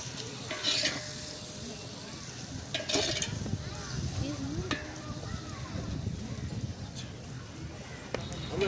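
Mint leaves frying in oil in a pan with chili powder, a soft continuous sizzle under repeated stirring scrapes and a few sharper utensil knocks, with faint voices in the background.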